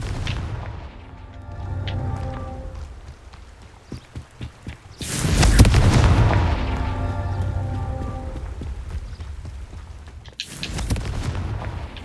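In the Hogwarts Legacy video game, a Confringo blasting spell explodes with a loud, booming burst followed by a rumbling tail. Earlier crackling combat effects play beneath it, and a second blast comes near the end.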